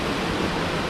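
Underwater in a deep valley plunge pool beneath a waterfall about 3 m high, a steady, dense rushing roar fills the water, loud and unbroken throughout.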